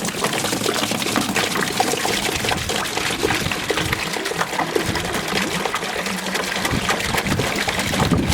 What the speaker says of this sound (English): So now we're going to tip it out and see what we've got inside there and see what sludge comes out